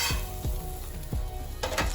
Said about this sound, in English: So just let it cook, let it sizzle.